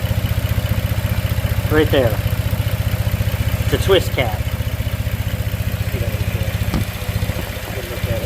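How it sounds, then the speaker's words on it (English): A 2008 Pontiac Torrent GXP's 3.6-liter engine idles steadily with a low, even rumble throughout, while someone talks briefly over it. "Sorry about the engine noise"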